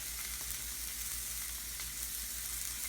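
A thin cut steak fries in a pan with a steady, close, continuous sizzle and faint crackles, no voices over it.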